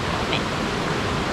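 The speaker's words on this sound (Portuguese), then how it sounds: "Estamos aqui do lado da cachoeira, por isso esse barulho alto." A waterfall, Cachoeira da Laje on an Ilhabela trail, roars right beside a campsite: a loud, steady, close wash of broadband rushing water that runs unbroken with no voices over it.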